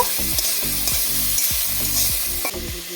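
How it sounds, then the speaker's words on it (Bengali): Bottle gourd and prawns fry in a pan with a steady loud sizzle, while a spoon scrapes and stirs in repeated quick strokes throughout. "তারপর আমি আবারও দু মিনিট মতো ভেজে নেব"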